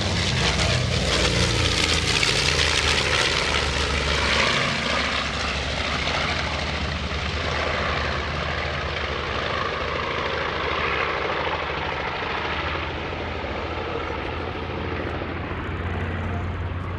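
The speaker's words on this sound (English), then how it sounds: "I love to hear the sound of those radial engines as the airplane is going away." A propeller airplane's deep radial-engine drone at an airshow, loud at first and slowly fading as it moves away, with a steady rumbling roar throughout.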